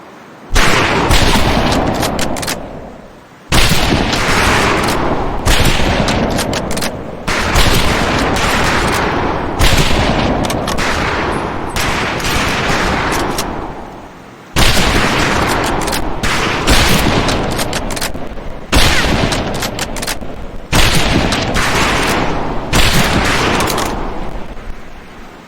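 Rifle fire on a shooting range in the video game Medal of Honor Pacific Assault: repeated loud volleys of gunshots in dense bursts separated by brief pauses, sharp and close.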